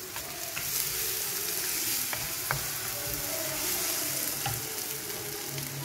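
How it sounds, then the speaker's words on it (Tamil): Eggs sizzle and crackle steadily in a pan while being stirred and scrambled on the stove, with occasional light scrapes and taps of the utensil; no one speaks. "இப்போ வந்து இதை ஸ்க்ராம்பிள் பண்ணிடலாம்"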